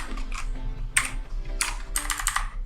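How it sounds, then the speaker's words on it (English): Keys tapped on a computer keyboard in irregular bursts of quick clicks, close and clear, with short pauses between runs and no talking. "let me just type heading inside the h1 tag"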